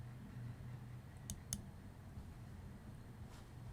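Computer mouse clicks while working in the Unreal Launcher, a pair of sharp, quick clicks close together near the middle over a faint, quiet background hum.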